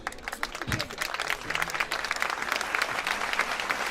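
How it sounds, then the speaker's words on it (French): Audience applause at a fashion show fills the space as steady, dense clapping from a crowd, moderately loud, with a faint voice briefly audible beneath it. "Sous vos applaudissements, s'il vous plaît."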